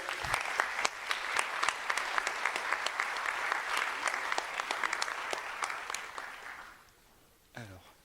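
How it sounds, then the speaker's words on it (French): At a French digital communication awards ceremony in 2023, the audience applauds in a sustained burst of clapping. It thins and fades near the end before a brief voice breaks in. "On peut les applaudir."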